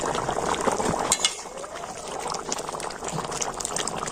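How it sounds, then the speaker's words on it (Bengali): Potatoes boiling in a covered pot, a close steady bubbling and rumbling of water with a brief clink of the lid partway through. "আর এবার আমি ঢাকা দিয়ে আলুটা কিন্তু সিদ্ধ করে নেব"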